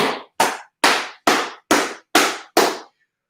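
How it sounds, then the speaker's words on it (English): Seven sharp, evenly spaced claps ring out close and loud, each decaying quickly, as workout participants give a round of applause at the end of a livestream full-body session. "Give yourselves a round of applause"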